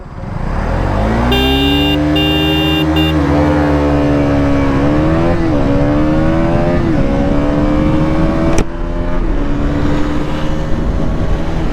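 A 2026 KTM Duke 200 or 2026 Yamaha MT-15 DLX motorcycle launches in a drag race, its engine revving loud and close, pitch climbing through several gear changes with a brief shift break, no talk over it.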